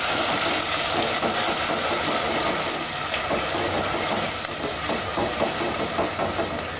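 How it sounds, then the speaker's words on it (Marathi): Ground spice paste sizzles and fries in hot oil in a pan, a steady dense crackling hiss running throughout with small popping bursts, fairly loud and close with no voices over it. "हे आता हा वाटलेला मसाला तेलामध्ये परतवायला टाकते."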